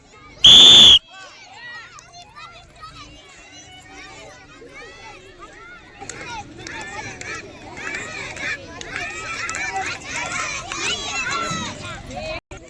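A single loud, shrill whistle blast starts a girls' school running race, followed by children's chatter and cheering from a lively crowd that builds as the runners set off.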